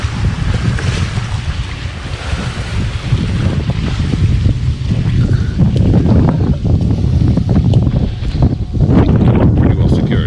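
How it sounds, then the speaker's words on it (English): Strong, steady wind gusts buffet a camping tent at a lakeside campground during a storm, with continuous loud rumbling and flapping near the microphone and no speech. "I'll give you a quick look at the tent blowing in the wind."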